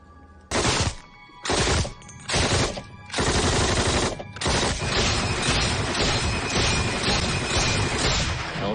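Bursts of Thompson submachine gun fire from a World War II battle scene, several loud staccato volleys at first, then continuous rattling gunfire with crashing impacts running on to the end.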